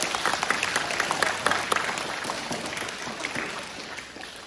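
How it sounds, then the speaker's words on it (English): An audience claps steadily after a performance, with dense broadband patter and a few louder individual claps, the applause holding loud and fading slightly toward the end. "Give yourself a big clap."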